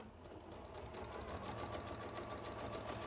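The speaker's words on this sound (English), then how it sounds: "So sewing down either side of this." A sewing machine runs steadily, stitching down the sides of a Yazzii bag, a continuous close whirring hum with a fast even needle rhythm and no talk.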